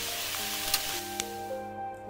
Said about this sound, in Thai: เจียวไข่และเอาลงกระทะนี่มีการโชว์สกิลด้วย